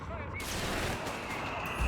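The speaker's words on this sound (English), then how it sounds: "that is a whiz-bang hitting the field" Whizbang rocket artillery fires in a Company of Heroes 3 2v2 match, a rapid, crackling barrage of explosions rolling across the battlefield beneath a commentator's voice.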